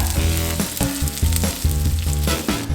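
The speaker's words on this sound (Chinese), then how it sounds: "然后放入我们的姜片， 把它给稍微煎一下" Ginger slices fry in oil in a wok, a loud steady sizzle broken by repeated scraping and stirring strokes, close up with no talking.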